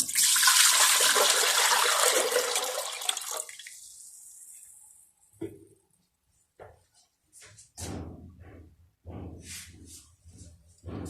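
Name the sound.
water poured into pressure cooker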